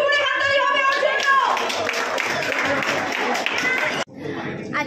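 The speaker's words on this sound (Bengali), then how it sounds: "একটা জোরে হাততালি হবে ওর জন্য।" An audience claps for the winner at a cooking competition grand finale, a burst of dense applause that carries under a voice speaking, then drops off sharply as quieter talk continues.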